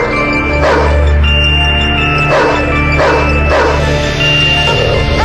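A guard dog barks during bark-and-hold training, four loud, close barks spaced irregularly over a constant low droning background.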